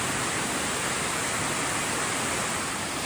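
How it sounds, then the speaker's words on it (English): Water pours down the Crystal Cascade in the Grose Valley, a constant broad rushing roar heard close with no breaks. "So the sign calls this Crystal Cascade"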